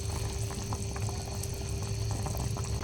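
Rohu fish curry with kohlrabi bubbles away in a pan, a steady low simmering burble with soft popping, close and constant throughout.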